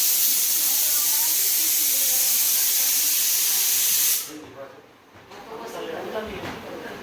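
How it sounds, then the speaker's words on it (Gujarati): Pressure cooker on a stove in a room, cooking a potato and onion curry, letting out a loud continuous hiss of steam for about four seconds, then cutting off abruptly to quieter room sounds with faint voices. "આવી રીતે જો અમારા રૂમમાં અમે કુકર ચડાવ્યું."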